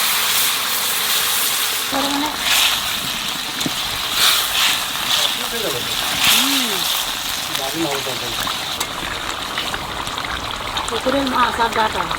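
Fish curry of fresh pond fish with pumpkin and tender stems sizzles in a pan, a loud, continuous hissing fry with stirring and faint voices in the background.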